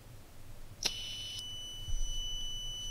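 A cheap gas leakage sensor module sounds its alarm with a sharp, high, steady electronic beep lasting about half a second, then a thin continuous tone lingers faintly with low background hum.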